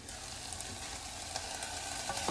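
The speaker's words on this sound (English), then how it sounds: "I can hear it sizzling." Pesto chicken couscous sizzles and fries steadily in a pan, a continuous close crackle with small pops and faint stirring scrapes, no voices.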